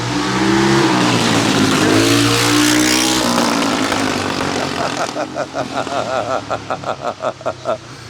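The twin engines of a mini dragster roar and rev loudly while racing, then break into rapid pulsing bursts as the motor stutters and pops, close and aggressive.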